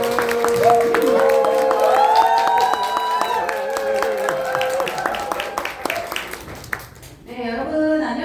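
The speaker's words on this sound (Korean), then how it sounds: "다이아몬드 문한영 리더님을 큰 박수와 함성으로 모시겠습니다" An indoor audience applauds and cheers to welcome a speaker to the stage, with dense clapping and whoops running for several seconds under an announcer's voice and a music sting, then tapering off as the speaker begins talking.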